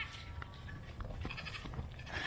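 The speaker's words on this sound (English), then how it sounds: "Hi, baby goat." A baby goat on a farm bleats a few times, moderately close, against steady farmyard background noise with no talking.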